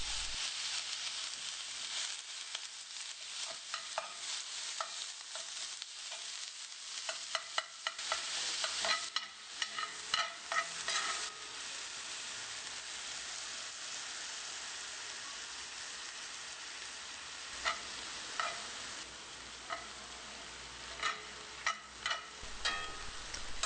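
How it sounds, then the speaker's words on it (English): Meat for Yemeni martabak fries with onion, garlic and spices in a hot pan, a constant loud sizzle broken by bursts of scraping and clattering as it is stirred. "Then I added the meat and I browned that for another 10 minutes until it's cooked through."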